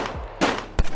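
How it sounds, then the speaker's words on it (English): Two sharp gunshot bursts from an inserted sound effect crack out in quick succession, loud and close, with a brief quieter gap between them and no talking over them. "gunshots, please!"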